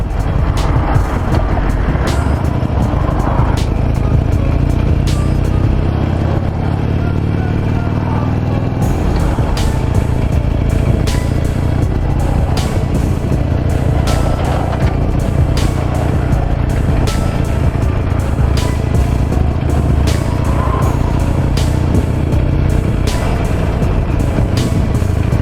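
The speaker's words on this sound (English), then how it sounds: "Stop and go traffic." A 17-year-old Harley-Davidson Nightster motorcycle idles and pulls away in first gear through stop-and-go Friday evening traffic on a bridge, a steady engine rumble with wind noise throughout and no talking.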